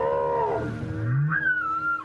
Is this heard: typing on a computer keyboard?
no